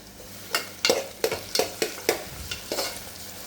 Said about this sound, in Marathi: आपण याच्यात टोमॅटो टाकून घेऊया कापलेला आणि तो पण परतून घेऊया